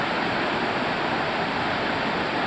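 A river in Linville Gorge rushes among giant house-sized boulders, a steady loud broadband roar of whitewater with no other sounds.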